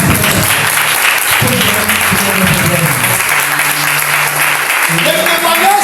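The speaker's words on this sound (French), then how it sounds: "je veux qu'on les acclame" Church congregation applauding at a Sunday service, steady broadband clapping filling the room throughout, with a few voices calling out underneath.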